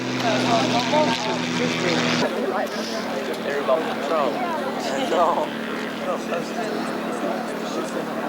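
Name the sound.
RF4 light aircraft flying past at airshow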